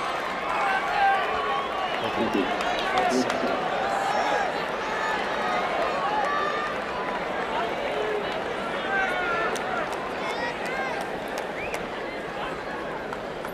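Crowd at the 1995 US Open tennis final cheering and roaring as Andre Agassi gets pumped up, a dense sustained wall of noise with a commentator talking over it.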